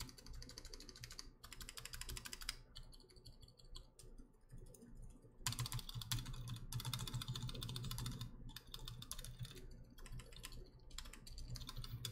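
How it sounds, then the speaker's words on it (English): Stabilizer test on a Time TKL mechanical keyboard fitted with Zilent 62g switches: repeated close keystrokes and spacebar presses in bursts and pauses, crisp clacks with no talking. "Okay, so stabilizer test real quick."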